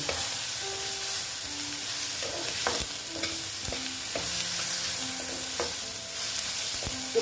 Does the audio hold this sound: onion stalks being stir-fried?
yes